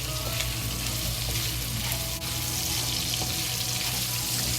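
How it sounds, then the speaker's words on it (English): Ginger and sausage fry in a pan with a loud, steady sizzle throughout, with a brief dip partway and faint stirring sounds. "Just fry it until the ginger releases good smell."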